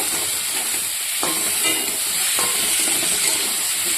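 Potato and pointed gourd sauté with ground chilli, cumin and other spices, giving a loud, bright, continuous sizzle with a couple of stirring scrapes.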